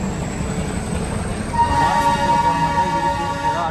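Ooty to Coonoor toy train rolling slowly: a continuous low rumble and rattle of the carriages, joined halfway through by a sustained horn tone that holds to the end.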